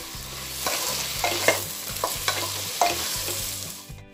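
Chunks of capsicum and long-cut carrot are stirred and fried for a pressure-cooker soya veg biryani, with a ladle scraping the pan in repeated strokes over a soft, steady sizzle, close up and with no talking.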